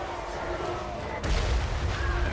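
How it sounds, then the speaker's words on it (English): A hellcannon fires in the Total War: Warhammer III video game, with Chaos Dwarf forces in battle, giving a dense, roaring artillery blast that swells partway through into a heavier boom over steady battle noise. "With our hell cannon."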